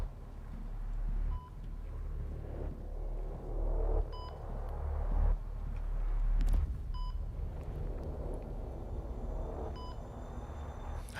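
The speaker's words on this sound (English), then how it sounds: "Where's this beeping?" Short, repeated electronic beeps sound at intervals over a low ambient rumble in the sci-fi shooter Returnal, faint chirps spaced a few seconds apart with no speech.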